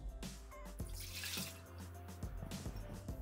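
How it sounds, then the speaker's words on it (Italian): Milk being poured into a Thermomix (Bimby) TM6 mixing bowl, a steady liquid trickle with faint drips, close and alone without speech. "Iniziamo la ricetta mettendo all'interno del boccale il latte"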